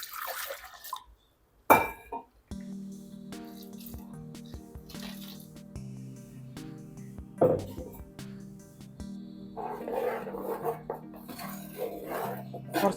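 Water swishes and drips as a mixer grinder jar is rinsed and emptied into a fish curry with its ground spice paste, with splashy pours in bursts over a steady tonal hum.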